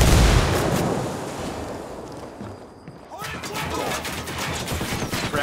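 Gunfire and explosions in the video game Ghost Recon Wildlands: a dense, loud barrage of shots and blasts, heaviest at the start, then a brief dip before rapid cracking shots pick up again, with voices talking over the combat.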